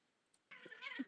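A cat meows once, a short, close, fairly loud cry after a moment of near silence.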